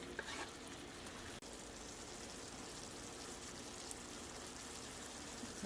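Red peppers frying in a pan for a vegan oxtail sauce, a steady, dense sizzle crackling evenly throughout with one brief sharp click partway through.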